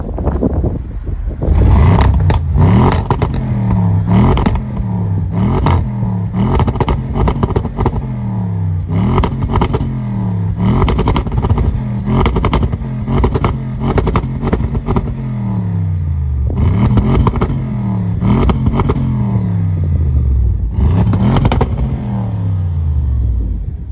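An Audi RS7 Performance, recorded from behind the car, revs repeatedly in rhythmic bursts, each rise in engine pitch followed by a falling drop, loud and close with no talking.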